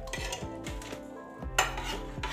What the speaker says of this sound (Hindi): ये देखिए इस तरह से ये मैं जार लूँगी और इनको मैं अच्छी तरह से भर लूँगी